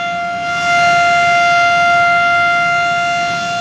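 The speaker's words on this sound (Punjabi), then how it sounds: "ਸਾਇਰਨ ਦੀ ਤੁਸੀਂ ਆਵਾਜ਼ ਸੁਣ ਹੁਣ ਜਿਹੜਾ ਸਾਇਰਨ" A blackout air raid siren in Nawanshahr, Punjab, wails steadily and loudly, a sustained layered tone holding without pause throughout, with no voices.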